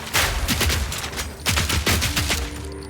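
Rapid bursts of turret fire and grenade blasts from the Path of Exile 2 video game, a dense clatter of shots that comes in two main volleys with short gaps between them, loud and close with no voices.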